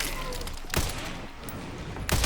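Gunfire in the Resident Evil 9 video game, sharp shots bursting close by amid a busy background, with a pair of louder blasts standing out.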